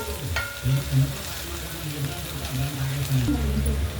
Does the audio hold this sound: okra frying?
yes